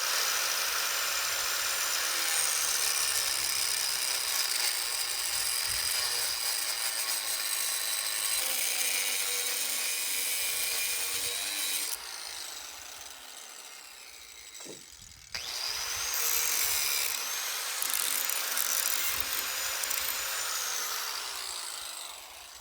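A power saw cuts through a 3x6 wooden board with a loud, sustained high whine, briefly dropping and restarting midway before running on, close and alone.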